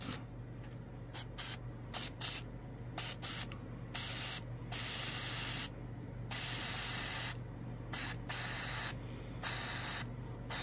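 Spray paint can hissing in repeated bursts as paint is decanted into a cup for airbrushing, short and longer sprays separated by pauses over a steady background hum.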